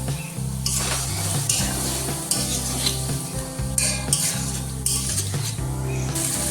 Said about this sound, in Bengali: তারপরে এর মধ্যে ভেজে রাখা আলুগুলো দিয়ে দিচ্ছি সামান্য একটু জল দিয়ে দিচ্ছি